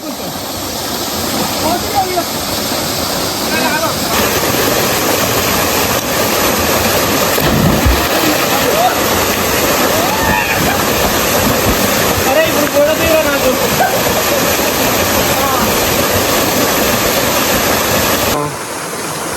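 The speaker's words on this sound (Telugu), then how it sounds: "ఇదే ఆ వాటర్ ఫాల్స్, కక్కి వాటర్ ఫాల్స్." A loud, steady roar of a waterfall, Kakki Waterfall near Paderu in Andhra Pradesh, pours on without a break, with faint voices now and then underneath.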